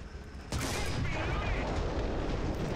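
Artillery fire in War Thunder, a tank battle game, pounding as a sudden loud burst that rises into a dense, continuous roar of blasts and rumbling for the rest of the stretch.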